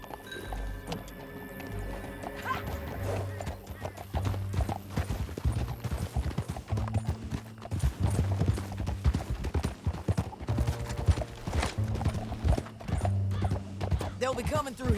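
Horse hooves galloping in Red Dead Redemption 2, a steady rapid clip-clop running throughout with occasional snorts, under game music and intermittent talk.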